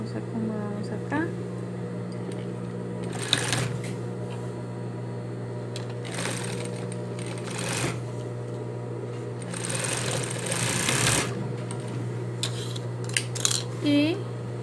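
A sewing machine runs steady stitching through trouser fabric for capri pants, with a continuous motor hum that is punctuated by brief louder bursts, while someone speaks over it throughout.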